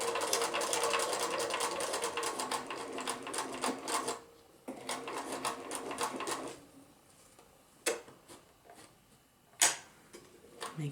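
Sewing machine stitching a foldable, reusable grocery bag, running in fast steady bursts with brief pauses between, close and alone, with a few sharp clicks from adjustments near the end.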